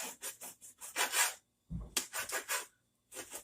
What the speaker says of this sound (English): I'm cutting the steak into long strips.